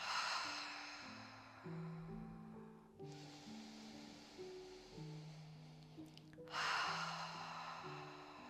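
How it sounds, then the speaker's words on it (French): A deep, slow exhale through the mouth during a face-yoga breathing exercise, heard as soft breathy rushes at the start and again near the end over gentle sustained background music. "Une grande expiration par la bouche."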